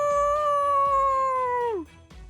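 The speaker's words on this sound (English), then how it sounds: "we hear a wolf howl." A lone wolf howl rises to a long, steady, sustained tone and then slides downward as it fades, heard clearly and fairly close in a quiet outdoor setting, with no talk over it.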